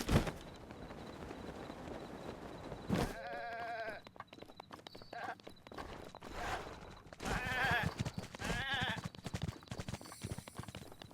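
Goats bleating amid game audio in Breath of the Wild, several short, harmonic bleats from about 4 to 9 seconds, mixed with clattering hooves and footstep-like thumps.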